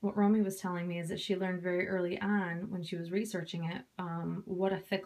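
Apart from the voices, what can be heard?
No everyday noises stand out.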